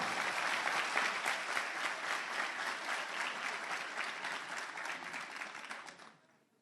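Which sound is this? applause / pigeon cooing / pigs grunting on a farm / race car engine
applause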